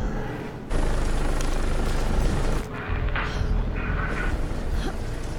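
Loud, low rumbling helicopter rotor noise with a heavy engine drone, surging suddenly then continuing steadily, close and dominant, in the video game Tom Clancy's The Division.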